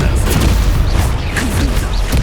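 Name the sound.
Expulso blasting spell explosion in video game Hogwarts Legacy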